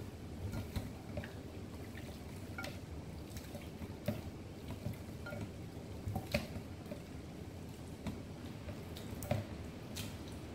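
Oxtail pieces rubbed and squished by hand in a kitchen sink with water, giving a continuous wet sloshing and squelching with scattered drips and small splashes, close and steady throughout.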